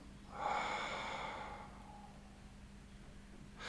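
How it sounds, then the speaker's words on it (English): Slow exhalation voiced as a whispered R during an Alexander technique breathing exercise, a single soft, breathy rush that swells quickly, then tapers over a couple of seconds into quiet room tone. "you can hear that I'm putting a bit of sound on when I'm breathing out"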